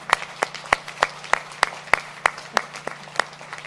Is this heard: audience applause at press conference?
yes